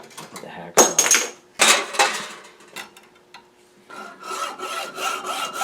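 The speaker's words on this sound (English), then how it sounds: "I'll just cut this off right about here. We'll do that with the hacksaw." A hacksaw cuts metal during a homemade marine oscillating steam model engine build, with bursts of rough rasping strokes separated by pauses, then steadier, quicker strokes near the end; close and moderately loud.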